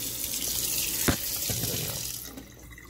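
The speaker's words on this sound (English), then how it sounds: "Turn off the water." Water runs from a tap in a steady rushing stream, splashing into a sink, fading slightly toward the end.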